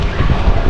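Steady, loud wind rush buffets the microphone while riding a bike on an adventure ride, a dense roar with no voices.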